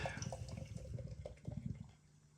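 Non-alcoholic stout beer pours from a can into a glass with close, gurgling, bubbly liquid splashes that gradually thin out and stop; quiet and without talk.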